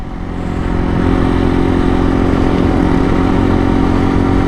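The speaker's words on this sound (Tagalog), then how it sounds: "Ang sarap talaga magmotor pagka ganitong umaga" A motorcycle rides along a rural road on a December morning, its engine a loud, close, steady drone that swells in the first second and then holds an even throb, with no talking.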